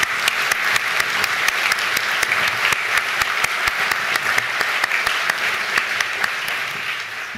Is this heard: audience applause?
yes